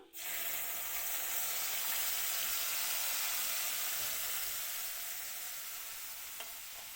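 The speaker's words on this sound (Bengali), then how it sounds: "এখানে ভাজা করা তেল রয়েছে এটার মধ্যে আমি পেঁয়াজ রসুন আর মরিচ একসঙ্গে বাটা করা গোলানো দিয়ে দিলাম" Onion, garlic and chilli paste fries in hot oil with a loud, steady sizzle that bursts in at the start and holds for several seconds, easing slightly toward the end.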